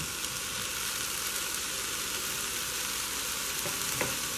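Drained meat goes back into a hot frying pan with peppers for a Turkish dish, producing a continuous close sizzle with faint stirring scrapes near the end, steady and without talk.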